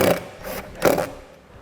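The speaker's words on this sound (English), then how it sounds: "we're just going to take a 1/4 inch self-tapping screw, comes with the kit, and ground that" A power driver runs a 1/4 inch self-tapping ground screw into metal while a tail light wiring kit is installed on a 2016 Chevrolet: two short whirring bursts, close and clear, then quiet.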